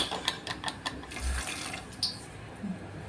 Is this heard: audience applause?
no